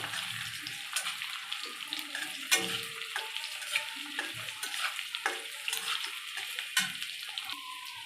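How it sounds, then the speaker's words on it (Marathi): Boiled potato pieces are stirred and sautéed in oil in a pan for sabudana khichdi, with soft scraping, gentle sizzling and irregular spoon clatter, fairly quiet and close. "आपण ह्याच्यामध्ये उकडलेल्या बटाट्याच्या फोडी टाकून घेऊयात आणि त्या तेलामध्ये थोड्याशा परतून घेऊयात"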